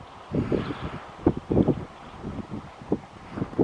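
Gusty wind buffets the microphone outdoors during a hunting shoot, a low rumbling in uneven bursts and swells, fairly close and moderate in level, with no talking.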